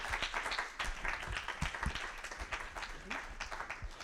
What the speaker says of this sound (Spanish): podemos dar un último aplauso a los dos a la vez